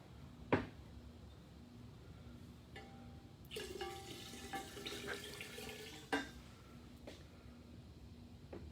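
Liquid poured into a measuring container filled to the top, a faint splashing pour lasting a few seconds with scattered clinks and knocks before and after, heard quietly without talk.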